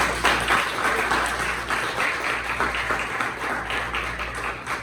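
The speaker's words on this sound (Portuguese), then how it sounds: "Você pode dar uma salva de palmas para Jesus?" A church congregation at a Christmas service breaks into a steady round of applause, a dense, continuous patter of many hands clapping with slight swells throughout.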